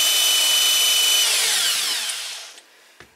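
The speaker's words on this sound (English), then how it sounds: "this drill does not rotate the alternator with enough speed" A power drill spins a car alternator, a loud high whine that holds steady, then winds down over about a second and stops, followed by a couple of faint clicks.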